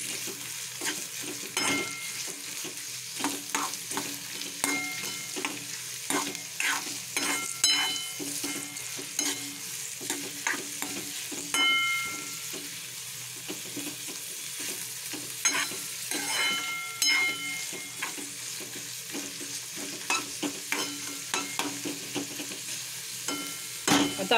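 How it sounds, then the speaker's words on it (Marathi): Sliced onion and curry leaves frying in oil in a pan, a continuous sizzle broken by regular spatula scrapes and clinks as the mix is stirred, close up with no speech. "आणि आता आपल्याला हे व्यवस्थित ढवळून घ्यायचं आहे."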